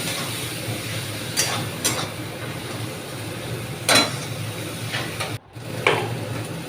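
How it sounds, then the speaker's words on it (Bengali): Spice paste stir-fried in hot oil gives a steady, close sizzle, with a few louder scraping strokes of stirring and one brief dropout. "মশলাটা এমনভাবে কষাবে যাতে পুরো একদম তেল বেরিয়ে আসে"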